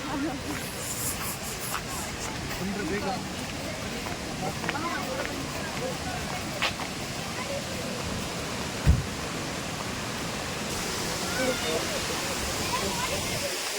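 A roadside waterfall near Sringeri gives off a steady, broad rushing roar that fills the whole stretch, with one brief low thump partway through and no clear voices.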